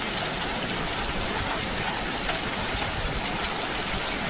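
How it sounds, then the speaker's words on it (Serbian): Hail falling with heavy rain in a storm in Kruševac, a dense, unbroken roar of pelting drops on surfaces, loud and steady with no pauses and no voices. "Grad kroz kišu."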